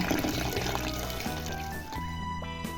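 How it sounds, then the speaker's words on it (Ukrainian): Small tomatoes are washed in running water, with a steady splashing, pouring stream close by and some light knocks of the fruit, continuous throughout. "Ретельно миємо помідори невеликого розміру."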